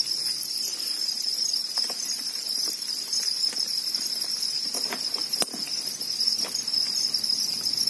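Crickets chirp in a breeding tray, a dense, continuous high-pitched trilling with faint scattered ticks and rustles underneath, close and fairly quiet with no voices.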